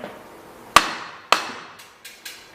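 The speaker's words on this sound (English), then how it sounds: "You need to tap the axle out through the frame." Two sharp mallet strikes from a plastic face mallet tapping a bicycle crank axle out through the frame, each with a short ringing decay, followed by a few fainter taps, close and alone.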